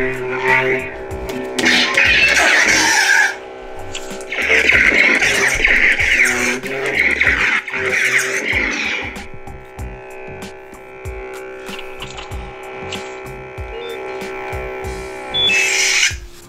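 Sabertrio lightsaber sound font playing up close, a steady electronic hum with bursts of crackling, swinging swells that rise and fall over several seconds.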